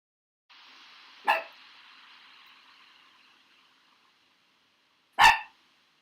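A dog barks twice, a few seconds apart, each bark short and sharp over a faint, steady hiss that fades away between them.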